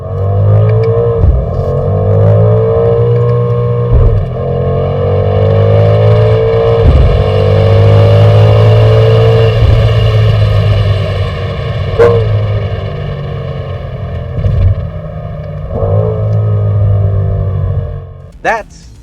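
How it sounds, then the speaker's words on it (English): A BMW XM's exhaust drones with a rich, steady engine note that swells and eases, punctuated by several sharp cracks and pops, loud and near throughout. "the bang in an M car is always the exhaust"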